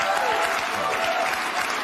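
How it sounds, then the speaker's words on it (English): Studio audience at a late-night talk show applauding steadily, a dense, sustained wash of clapping hands that holds at an even level throughout with no voices standing out. "Bill Maher's crowd clapping to that."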